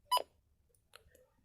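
A single short, bright beep from pressing the select button on a Midland WR-100 weather alert radio rings out near and clear, followed by a few faint clicks in an otherwise quiet room.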